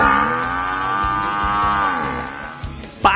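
A water buffalo (carabao) gives a long, loud, sustained low moo that holds steady and then tapers, ending with a short bump of other sound.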